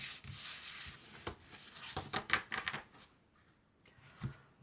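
Tarot cards shuffled, rubbed and drawn from a deck during a reading, a soft papery rustle with a few sharper flicks and slaps, close and fairly quiet, with no voice over it.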